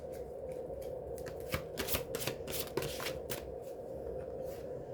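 A deck of tarot cards is shuffled by hand in a quiet room, several quick riffling bursts close up, with no talking.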